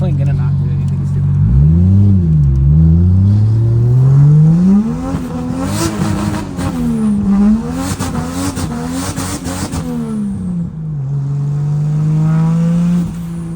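A drift car with a one-piece driveline drives its first run around the block, the engine revving loudly and rising and falling in pitch, with tire squeal and skidding bursts, then settling to a steady idle.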